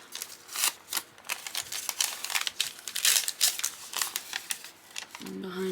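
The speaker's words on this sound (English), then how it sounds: "so we'll just fold that in half" Paper with a rough edge being folded in half for a handmade junk journal, a run of close, crisp crinkles and creases, with no voices.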